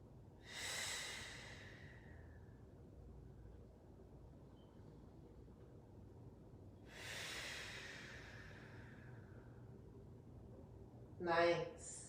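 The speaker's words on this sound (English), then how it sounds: "2 more breaths here." Slow breathing in a yoga pose, two long airy exhales several seconds apart, close and soft over a quiet background, with a brief louder sound at the end.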